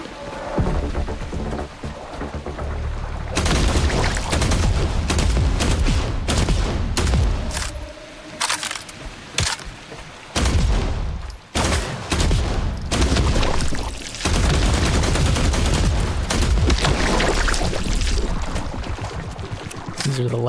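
Gunfire in the video game The Last Caretaker: dense, loud shots and rapid bursts against a constant roaring rumble, with a short lull midway before more firing resumes.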